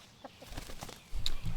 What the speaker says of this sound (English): You be a good chicken.